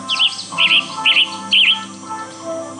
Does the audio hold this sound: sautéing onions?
no